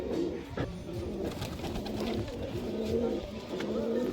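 Homing pigeons, sold as a lot, coo in low, throaty, rolling calls close by, with a few softer coos overlapping and light rustling underneath.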